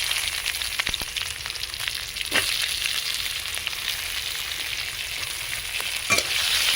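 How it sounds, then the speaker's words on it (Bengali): Chopped onion frying in a pan, a continuous close sizzle with occasional stirring clicks, no talk. "ভালো করে ভেজে নেব। ওর মধ্যে দিয়ে দেবো পেঁয়াজ কুচি"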